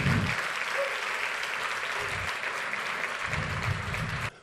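A church congregation applauds God in steady, moderately loud massed clapping, with low rumbles of voices or movement at a few points, before the applause cuts off abruptly near the end.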